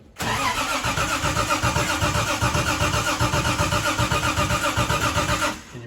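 A 1973 Triumph TR6 engine cranks and fires up, then runs at a loud, steady, close-up idle with a rapid pulsing throb that holds for several seconds before cutting off, no voices.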